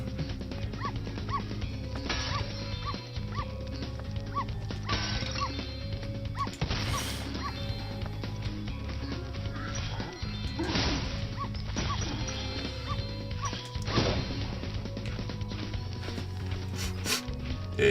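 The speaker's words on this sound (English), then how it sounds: "There's your dog. You found Farley." Dog named Farley in the video game Spyro Reignited Trilogy, barking, yipping and whimpering in repeated short bursts over a steady game soundtrack, with occasional thwacks.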